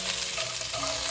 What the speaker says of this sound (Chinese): 把猪脚放进来继续翻炒。